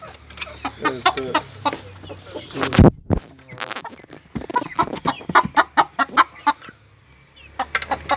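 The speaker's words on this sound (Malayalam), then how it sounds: "ഞാനിപ്പോൾ ഫയോമീസ് അതുപോലെ തന്നെ നാടൻ കോഴികളും" Fayoumi and native country chickens cluck and squawk in a steady series of short, close calls, with a brief louder burst partway through.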